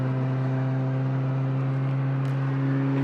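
A turbocharged Toyota Celica GT-S pulls hard in first gear with a loud, steady engine drone, strong low harmonics holding throughout and a faint whooshing hiss near the end.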